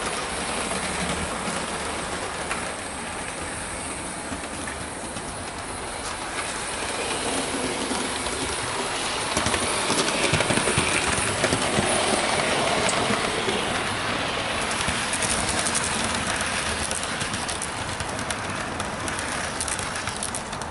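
A Hornby GWR 6000 King Class model locomotive, an express passenger engine, running on model track with a steady close whirring rumble and rhythmic clicking of wheels over rail joints, building slightly as it speeds up.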